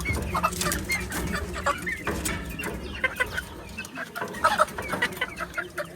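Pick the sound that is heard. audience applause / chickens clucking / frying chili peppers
chickens clucking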